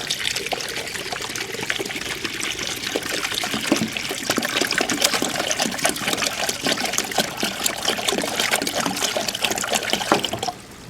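Distilled water pours steadily into the cooling system of a 2002-2006 Jeep Liberty 3.7L engine, a continuous close splashing trickle that runs without pause for several seconds.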